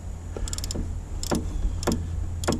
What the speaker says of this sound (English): Try to swing your ratchet more so you do something with each one.